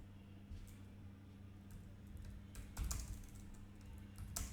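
Someone types code on a computer keyboard in a quiet room, with steady soft key clicks and a few quicker bursts over a low hum.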